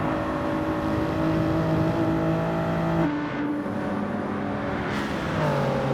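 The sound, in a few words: race cars accelerating up a hill in a racing video game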